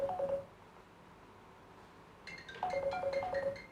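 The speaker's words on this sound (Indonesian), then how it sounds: "Telepon nggak tuh?" A telephone gives a short electronic ringtone trill, stops for nearly two seconds, then rings again more brightly, loud and alone.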